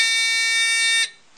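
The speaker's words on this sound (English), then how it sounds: "swap out the bar graph and swap in the buzzer" A littleBits buzzer module sounds a loud, harsh, continuous electronic buzz for about a second, then cuts off abruptly, leaving near silence.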